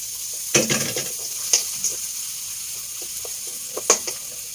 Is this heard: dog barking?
no